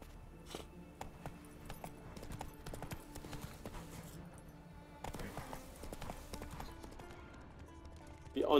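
A horse gallops in The Witcher 3: Wild Hunt, its hooves clip-clopping in a quick, steady rhythm with brief pauses, while someone talks quietly over it.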